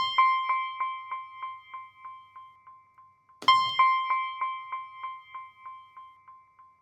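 An OP-1 Field synth piano plays two notes, each trailed by a quick train of evenly spaced short delay echoes that fade away; no voices.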